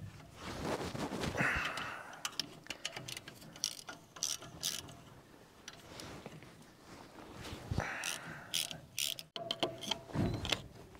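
Car jack ratcheting up under the back of an abandoned 1980 Dodge, close repeated clicking pawl strokes in uneven bursts with metallic clanks and shuffling between pumps, no talk.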